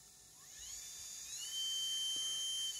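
A small high-pitched custom rotary tool motor running at about 30 volts whirs, its whine rising in pitch as it spins up and then holding steady, fairly quiet, with no talking.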